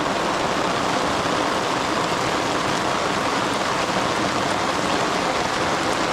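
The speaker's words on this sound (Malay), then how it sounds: "Hujan lagi, hujan lagi." Steady rain pouring by the Mawai river during a solo prawn-fishing outing, a dense, continuous hiss with no breaks, loud and close throughout.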